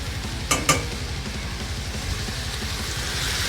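Sirloin steaks hiss in a hot pan. Two quick clatters mark the flip, then a steady, close sizzle continues alone.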